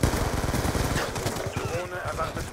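Skorpion Evo submachine gun fired in Black Ops II multiplayer, a very rapid, loud stream of automatic shots with a voice heard over the gunfire.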